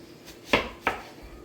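A knife cuts food in half on a board in a home kitchen while chicken is being prepared, giving two crisp, close chops about a third of a second apart against a quiet background.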